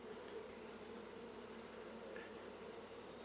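Honey bees buzz around a hive with a freshly added super and a new roof, a dense, continuous droning hum of many insects close by, quiet overall and with no talking.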